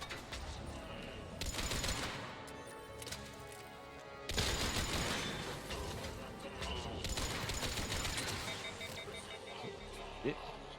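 Turret gunfire in the sci-fi shooter game Mass Effect 3 comes as dense, sustained bursts of rapid shots with mechanical clatter, broken by short pauses, while someone talks over it.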